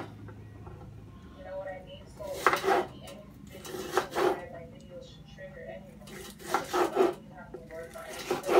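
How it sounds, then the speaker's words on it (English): Knife chopping an onion on a cutting board, a few clusters of close, crisp cutting and scraping strokes with quiet gaps between them and a voice talking faintly in the background. "I'm cutting up this onion just to put in there."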